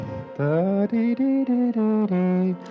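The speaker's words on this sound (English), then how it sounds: "what you're hearing is the orchestra changing note every time" Sustained string orchestra tones moving through a short phrase of about seven notes, each held briefly before shifting pitch, with small gaps between.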